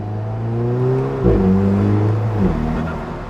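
Mid-mounted turbocharged 1.7-liter four-cylinder engine of an Alfa Romeo 4C revving loud and close, steady drone rising and falling with shifts in pitch around the middle.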